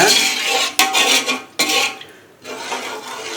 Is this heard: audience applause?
no